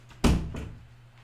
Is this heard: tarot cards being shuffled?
no